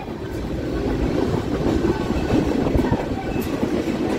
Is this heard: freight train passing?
yes